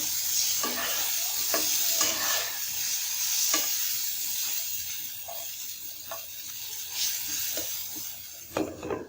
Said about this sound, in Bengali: 2 মিনিট ভেজে দিব এইভাবে